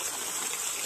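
Clothes washed with natural soapberries being rinsed in water, a brief, steady wash of splashing and trickling water close by.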